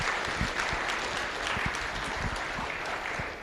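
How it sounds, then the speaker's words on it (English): Conference audience at a programming languages meeting giving a round of applause, a continuous dense patter of many hands clapping for a few seconds, fairly close and even in level. "let's give them a round of applause as well"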